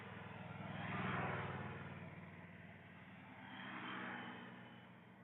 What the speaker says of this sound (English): it's nice to hear the occasional car passing, honking a horn